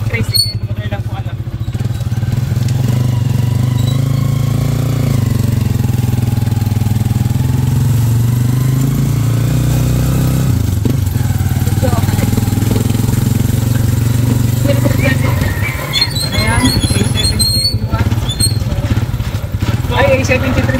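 A tricycle motorcycle engine runs steadily at idle and low revs, a continuous close throbbing drone, while people talk over it throughout.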